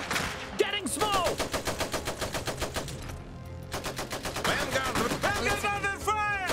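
Rapid machine-gun bursts in the World War I strategy game Iron Harvest, repeated fast rhythmic volleys with a brief pause midway, loud and sustained, with short voiced game lines mixed in.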